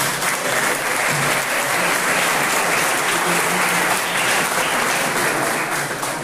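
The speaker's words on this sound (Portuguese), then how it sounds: "as palmas louvam o Senhor Jesus" A church congregation applauds in praise, a loud, steady, dense clapping from a large crowd, sustained throughout with no break.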